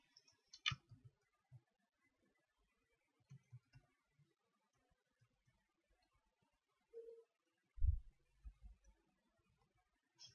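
A computer mouse clicks while a sign-up form is filled in an ASP.NET Web Forms login project; a few sharp, faint clicks are scattered through otherwise quiet room tone, with some soft low thumps near the end.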